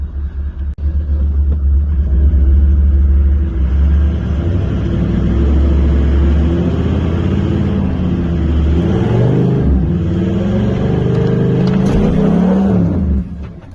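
A 4WD vehicle claws up a rutted track on Mt Pinnibar, its engine revving loud and sustained with a deep rumble and rising, straining pitch as it pushes over the rut, no talk.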